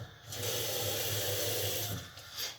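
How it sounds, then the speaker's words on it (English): Small splash of water poured into a cooking pan for a strawberry and honey dessert, heard as a steady, close pouring stream lasting a second or two before trailing off. "I'm just gonna put a good little splash of water in there."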